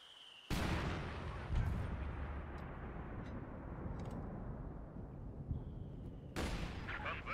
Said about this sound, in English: Anti-tank gun is ready for action.